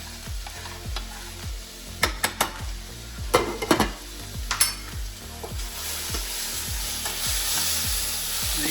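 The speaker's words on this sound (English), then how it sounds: "Pop my rice straight in. That's a quick stir." Rice stirred into a hot pan while cooking coconut rice and peas: repeated scraping stirs with a rhythmic ticking and a few sharp clinks of utensil on pan over a steady low sizzle, with no talking.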